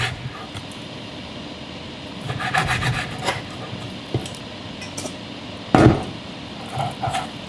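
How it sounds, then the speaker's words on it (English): A knife slices T-bone beef steak into strips on a cutting board, giving soft repeated rubbing and scraping strokes with a few sharper taps, close and fairly quiet with no talking. "And as you can see over here, I am cutting some beef strips."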